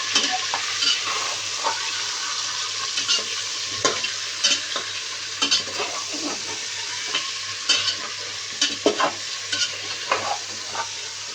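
Mutton sizzles in a hot pan while a spoon stirs it, with repeated scraping clicks and knocks over a continuous frying hiss.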